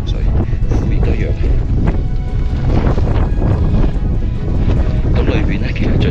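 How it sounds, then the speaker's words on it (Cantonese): Strong wind buffets the microphone on a climb up Mount Fuji's Yoshida Trail, loud gusty rumbling roar in irregular surges, with a voice talking underneath. "講大聲啲，好大風"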